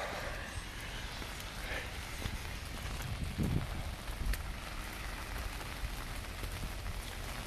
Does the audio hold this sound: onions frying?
no